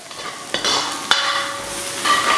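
Onions soften and sizzle in a pan for braised pork spare ribs, a close, steady frying hiss broken by a couple of sharp stirring scrapes.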